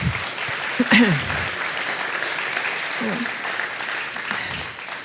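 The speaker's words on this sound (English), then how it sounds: "So let's have a round of applause to thank the sponsors." An audience at a student presentation competition applauds to thank the sponsors, a steady mass of clapping that runs the whole stretch, while a voice speaks briefly over it near the start and again around the middle.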